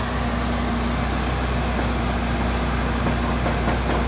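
A bulldozer engine roars at high RPM, a loud steady low drone with a constant pitch that carries on without a break while pulling a camping trailer up a steep hill.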